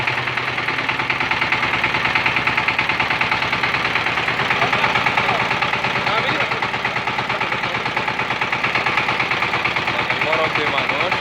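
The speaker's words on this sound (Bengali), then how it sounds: "এখন পাওয়ার টিলার চলে যাবে।" A Saifeng 16 horsepower power tiller engine runs loud and close with a steady rapid chugging pulse throughout, with voices faintly underneath.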